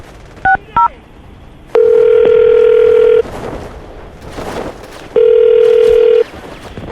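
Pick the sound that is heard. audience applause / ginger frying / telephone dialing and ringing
telephone dialing and ringing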